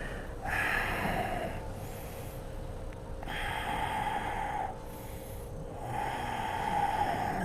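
Deep breathing during a strong yoga flow class, slow audible inhales and exhales alternating in a steady rhythm, close and fairly quiet.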